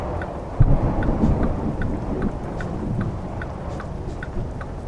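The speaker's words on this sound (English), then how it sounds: "And it's storming." Steady rain and rumbling thunderstorm noise inside the American Truck Simulator driving game, a continuous broadband wash with a low thump early on and faint repeated ticks, no talking.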